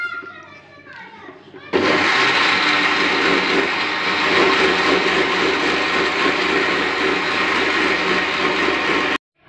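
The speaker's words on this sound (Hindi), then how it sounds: "अब मैं इसको शेक कर लूंगी।" Blender whirring on an Oreo shake with sugar and a tablespoon of cocoa powder, starting abruptly and running loud and steady for about seven seconds before cutting off, after brief voices.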